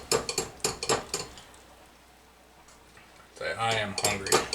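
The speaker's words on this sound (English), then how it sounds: "I'm just going to stir my cheese in." Cheese being stirred into grits in a pot on low heat, a spoon scraping and clinking against the metal in quick bursts at the start and end, with a quieter pause in between.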